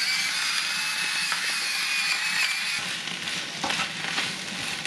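Pork hock and bamboo shoots stir-fry in a hot pan with soy sauce, sugar and pepper, giving a steady close sizzle with scraping stirs and no voices.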